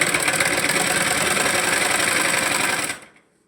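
A sewing machine runs steadily while stitching a blouse, a close, continuous mechanical whirr that stops abruptly near the end.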